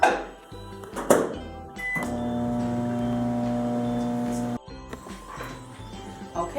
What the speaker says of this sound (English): I'm going to start by microwaving it for 2 minutes